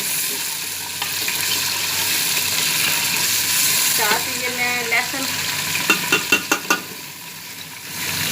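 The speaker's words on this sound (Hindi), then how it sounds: "अब इसके अंदर मैं ये चिकन ऐड कर दूंगी, फ्राई कर लूँगी।" Chicken sizzles and fries in a pan for a chicken and black-eyed bean curry, a steady crackling hiss with a few sharp utensil clinks near the end while someone talks over it.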